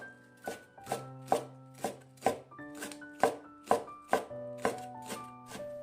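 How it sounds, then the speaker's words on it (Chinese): Knife chopping half a green onion into small pieces on a cutting board, about a dozen crisp, evenly spaced chops close up, with a pitched tone sounding underneath. "再准备半根香葱，先从中间切开，再给它切成葱花。"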